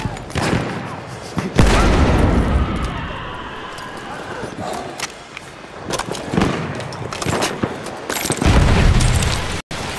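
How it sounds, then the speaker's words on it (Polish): A grenade explosion in Battlefield 1 booms loud and close, set among dense battlefield gunfire and crashing impacts, with further heavy blasts near the end and voices talking over the din. "Tam granat!"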